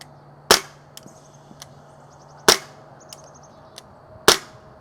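An air pistol fires three sharp shots while plinking in a backyard, evenly spaced about two seconds apart, each followed by a faint metallic ping of the target, with a steady low hum underneath.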